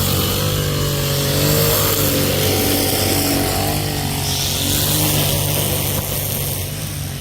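String trimmers cutting grass at landscaping works outside a large new airport building in Phnom Penh: a continuous, loud, high-pitched motor whine with shifting pitch, steady throughout, close by, with no talking.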